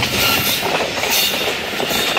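A train pulls into Golra Sharif railway station in Pakistan, loud rumbling wheels with clickety-clack rhythm and a faint squeal of metal, heard close from aboard without talk.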